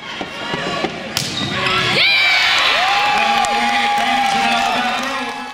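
A packed gym crowd erupts at a high school volleyball state championship match, loud cheering, shrieks and whoops swelling and holding at full volume, with a sharp bang near the start.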